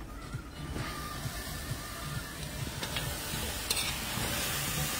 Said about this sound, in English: I'm gonna just stir this up